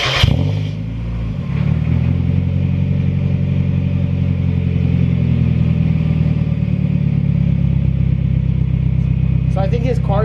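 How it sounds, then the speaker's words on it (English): An NA Mazda Miata fitted with an ISR exhaust cranks over and catches, then settles into a loud, steady, raspy idle with held revs, recorded close up, with brief voices near the end. "So my brother's gonna go ahead and start it up, and then I'll tell him to rev it a bit"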